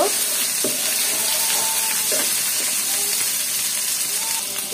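Chili, ginger, cauliflower and onion sautéing in a pan, a steady broad sizzle with occasional scraping and stirring knocks from a spatula, close and continuous with no talk.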